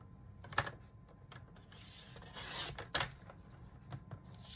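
A paper trimmer cutting cardstock for a handmade card, with a close, quiet scraping glide of the blade and a couple of sharper clicks along the way.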